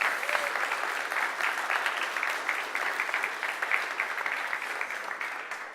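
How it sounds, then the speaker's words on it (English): Audience applause at a ZBrush Summit conference session, a dense, steady wash of clapping from a sizable crowd that slowly fades toward the end. "So give them a round of applause, please."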